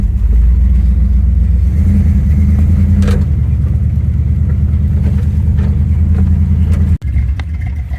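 A 1972 Chevelle engine runs loud and close with a steady deep rumble that swells as it revs, then cuts sharply near the end before idling on at a lower level.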